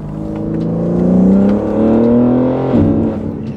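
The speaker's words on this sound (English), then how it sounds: "It's like crazy induction noise." A BMW G8X engine with a carbon fiber intake revs up with a loud, throaty induction roar, rising in pitch then dropping as the throttle eases off, close by.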